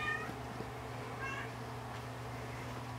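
A cat meows twice, with a short high call at the start and another about a second later, both soft and close over a low steady hum.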